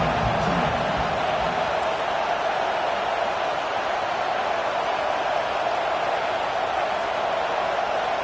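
A stadium crowd roars at an American football game as the opposing offense is pinned deep in its own end, a loud unbroken wash of noise holding steady throughout.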